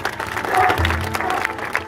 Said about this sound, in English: how about we give them both a little round of applause for that?